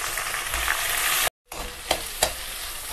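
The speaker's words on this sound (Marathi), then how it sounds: "आता हे चांगलं परतून घेऊया" Tomatoes, onion and cut chillies stir-fried in a pan give a loud, close hiss that breaks off briefly, then resumes with a couple of sharp clattering stirs.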